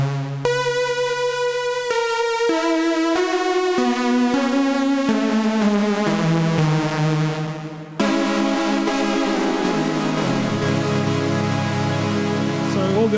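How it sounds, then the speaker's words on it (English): Knobula Monumatic synthesizer in its pulse width modulation plus sawtooth oscillator mode, driven by three LFOs, playing a descending sequence of sustained notes with a rich, buzzy, shifting tone, loud and continuous without speech. "pulse width modulation mixed with sawtooth driven by 3 LFOs"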